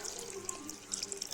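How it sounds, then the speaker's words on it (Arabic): Tap water running from a kitchen faucet into an empty yogurt cup while making basbousa, a steady faint splashing stream heard close up for a moment, with no talk over it. "ونفس العلبة بتاعة الزبادي هملاها مية عادية من الحنفية"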